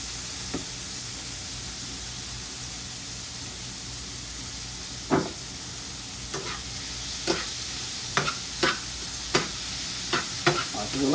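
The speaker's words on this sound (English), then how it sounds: "Alright, so we'll let them go ahead and cook for a second." Seasoned shrimp sizzle steadily in a skillet for fish tacos, a constant frying hiss broken by several sharp crackles and pops toward the end, close and fairly loud with no talking.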